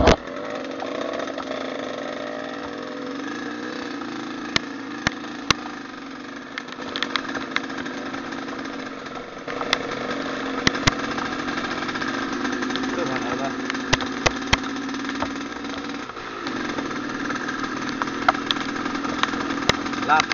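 Off-road motorcycles idle on an extreme dirt trail, a continuous mid-pitched engine drone with scattered sharp clicks and knocks, while people talk faintly in the background.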